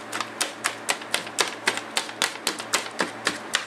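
Utensil rhythmically chopping through potatoes in a pan or bowl while mixing them for a Spanish omelette, about fifteen crisp, evenly spaced clacks close up, with no talking.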